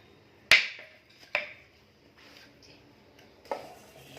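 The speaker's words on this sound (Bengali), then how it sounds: "আমি দেখাচ্ছি, উচ্ছেগুলো কাটি" Knife cutting bitter gourd, three crisp sharp chops spaced about a second apart, with faint lighter taps between them in a quiet room.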